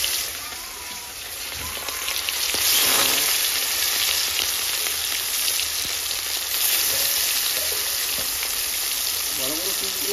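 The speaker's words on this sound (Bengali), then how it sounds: "ভাত হয়ে এই উনুনে মাছটা ভেজে নিচ্ছি। তেলটা গরম হয়ে গেছে।" Snakehead fish frying in hot oil on a stove, giving a loud, steady, dense sizzle that swells after a few seconds and continues throughout, with a voice faintly underneath.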